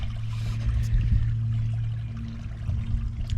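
Water running down from a hill by a pond, a continuous outdoor trickle and gurgle of moderate loudness with low rumbling underneath.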